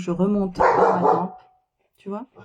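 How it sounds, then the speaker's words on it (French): A large dog barks in a loud, rough burst right after someone speaks, then she resumes talking over a quiet indoor room. "ce que tu entends, c'est mon gros chien qui monte la garde"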